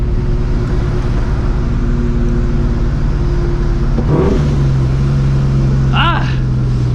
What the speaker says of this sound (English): You can clearly hear that blower.